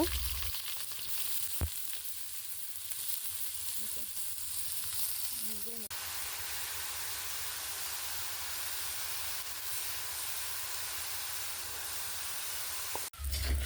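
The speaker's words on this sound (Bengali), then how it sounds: "এখন কড়াইয়ে তেল দিয়ে আলু ভাজি করে নেব।" Potatoes frying in oil in a wok, a constant loud hissing sizzle filling the whole stretch with a couple of brief knocks and clinks, steady and close, no talking.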